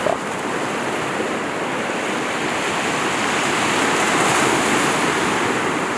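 Clear sea water surges onto Hwajinpo Beach in Goseong on Korea's east coast, a loud, continuous broadband wash of surf that swells slightly toward the end, with wind buffeting the microphone.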